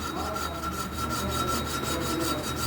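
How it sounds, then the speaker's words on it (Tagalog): Rapid rhythmic scraping and rubbing of metal on metal as an engine valve is hand-lapped with grinding compound, a steady gritty back-and-forth grinding, close and continuous. "maingay, no? Kasi may grinding compound po yan."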